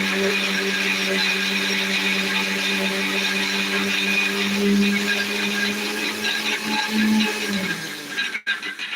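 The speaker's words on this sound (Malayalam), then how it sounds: "നമുക്ക് മിക്സിയിലിട്ടൊന്ന് അരച്ച് എടുക്കണം" An electric mixer grinder grinds chickpeas at a loud steady whine with strong motor hum for about eight seconds, then winds down and stops abruptly with a clunk near the end.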